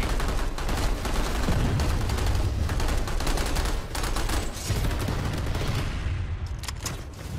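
Rapid automatic gunfire and scattered shots from the PlanetSide 2 online shooter game, dense and continuous at close range, thinning toward the end.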